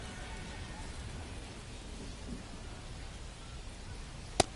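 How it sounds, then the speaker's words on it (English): Steady rain falls in a baseball video game, a soft, even hiss that holds throughout with one brief sharp tick near the end, no voices over it. "the way this rain is coming down"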